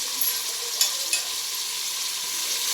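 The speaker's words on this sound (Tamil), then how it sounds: "அடுத்து பீன்ஸ் போடுறாங்க." Green beans stir-frying in a pan of fried rice make a continuous bright sizzle, broken by a few light clicks of the stirring utensil, heard up close with no talking.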